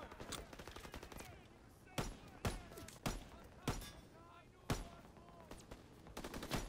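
Gunfire in the World War II shooter Call of Duty WW2, a campaign ambush mission: several sharp, separate shots at irregular intervals over a dense game background of battle noise, with faint voices mixed in.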